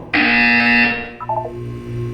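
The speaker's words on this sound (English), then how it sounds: "When you hear the buzzer, look down at the floor." A loud, steady electronic buzzer from the video game Portal 2 sounds alone for about a second, then cuts off and gives way to a short burst of higher beeping tones over a low background hum.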